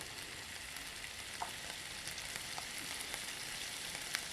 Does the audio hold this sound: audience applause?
no